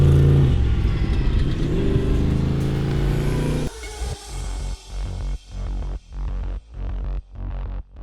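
A trophy truck engine from the Bentley Motorsports team, driven around an outback test loop, revs hard, then passes and recedes. It fades into a rhythmic, pulsing drone with regular gaps, with no talking.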